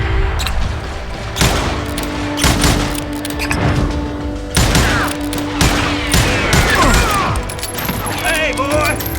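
Gunfire in the Call of Juarez: Gunslinger video game, loud repeated shots and booming blasts in fast succession, with shouted voices mixed in.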